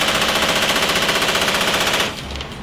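An M240D 7.62x51 belt-fed machine gun fires from an MV-22 Osprey in one loud, rapid, continuous burst of evenly spaced shots. The burst cuts off abruptly near the end, leaving aircraft noise behind.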